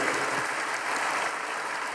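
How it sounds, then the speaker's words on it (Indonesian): Applause from worshippers at a Sunday church service in Indonesia, a full, even roar of many clapping hands that stays loud and steady throughout, with no talking over it. "Yuk tepuk tangan buat Tuhan Bapak Ibu"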